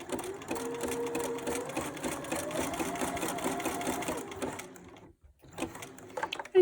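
A sewing machine stitches back and forth over elastic on a small pacifier clip project, a close rapid mechanical chatter running steadily before stopping briefly and restarting.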